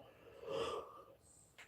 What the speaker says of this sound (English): Here comes the yawns.